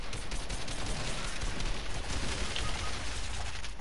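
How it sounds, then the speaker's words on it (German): Gunfire in an online video game, a dense crackle of rapid shots running steadily through the whole stretch, loud and without speech. "Wahrscheinlich ein Schuss, ich bin weg."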